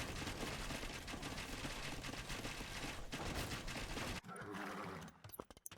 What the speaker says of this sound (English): This is machine gun archers, so they don't even have pumping and they're firing away like that